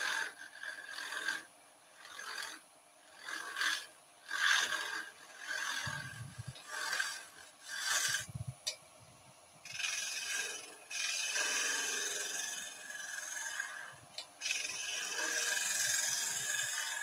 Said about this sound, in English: Tiny little cuts with a very blunt chisel now.